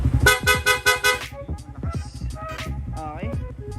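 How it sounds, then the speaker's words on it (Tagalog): A motorcycle's stock horn honks in quick repeated beeps, a bright buzzy tone pulsing about five times close by, followed by engine rumble and someone speaking. "Tapos yung busina, ito po yung stock horn."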